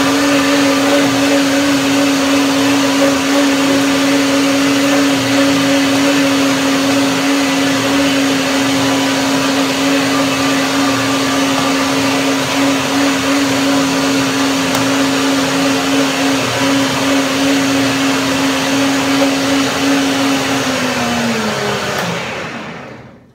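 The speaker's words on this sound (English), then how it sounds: "Now I blend them." A blender blending persimmons whirs loudly and steadily for over twenty seconds, its motor pitch holding constant before winding down at the end.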